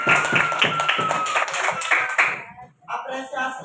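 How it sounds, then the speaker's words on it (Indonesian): A class of students claps hands in appreciation, a quick, fairly loud patter of close claps that briefly breaks off and then resumes, with voices mixed in. "apresiasi tepuk tangan, bukan menepuk meja"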